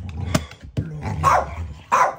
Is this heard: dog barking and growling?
yes